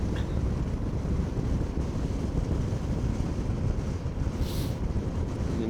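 Wind roaring steadily past during a ride on a Himalayan 450 motorcycle, a loud, dense rush that fills the whole stretch without a break, with no talking.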